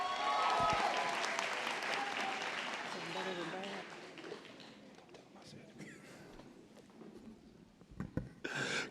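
Audience applause rings out at a nursing convocation after faculty bestow nursing pins, loud at first and then thinning into scattered claps over about nine seconds, with a few sharp closer claps near the end.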